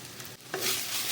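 Brinjal pieces fry in a pan for a Bengali begun posto dish, a close, steady sizzle with a brief stirring scrape partway through.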